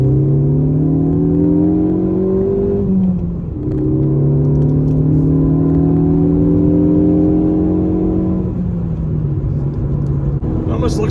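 A Ford Focus ST with a Borla S-Type dual exhaust drones loudly and close while accelerating, its pitch climbing steadily and then dropping briefly at each shift.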